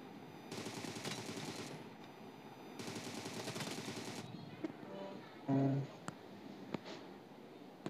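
Automatic gunfire in a PUBG team deathmatch, bursts of rapid shots in two long stretches, with a few single sharper shots later, fairly loud throughout.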